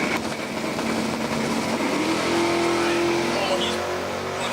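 Drag racing cars, one a 1966 Chevelle, roar steadily at a dragway, with a rising engine whine cutting through partway as a car launches, all under continuous announcer commentary.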